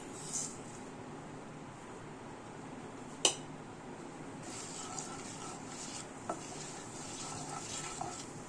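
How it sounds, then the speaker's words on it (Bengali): Dry red chillies with fennel, nigella, coriander, cumin and fenugreek seeds frying in hot oil, giving a faint steady sizzle with a few light clinks of a utensil against the pan. "এর মধ্যে 2টো শুকনো লঙ্কা ফোড়ন দিলাম, আর এতে আছে মৌরি, কালো জিরে, ধনে, জিরে আর মেথি"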